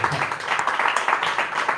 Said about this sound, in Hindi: भाई डेविड के लिए भी जोर से ताली बजाएंगे।